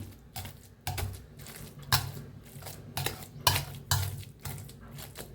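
Cooked pumpkin is mashed in a metal pan, producing a series of irregular, close knocks and scrapes of the masher against the pan.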